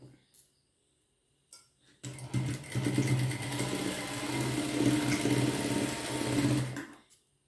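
A sewing machine stitches matching-colour lining onto a fabric piece, its motor running in one steady loud burst of about five seconds after a brief start, with faint handling noise before.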